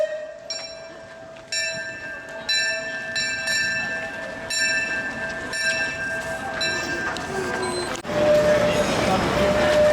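A train rolls past the roundhouse and locomotive shed at Disneyland, its bell ringing repeatedly over a steady rumble, with a louder surge of noise near the end.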